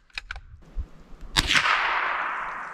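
Sharp gunshot cracks at a casual shooting competition: two quick close reports near the start, then a louder blast around the middle with a long decaying echo tail.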